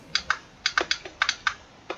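Sharp plastic clicks from a gaming steering wheel controller in an irregular run, about ten quick taps over two seconds, close and dry with no talking.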